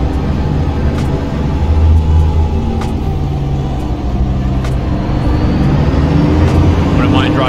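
Heavy truck engine of a Peterbilt 359 in American Truck Simulator, a steady low diesel rumble and drone held throughout, loud and close with no pauses.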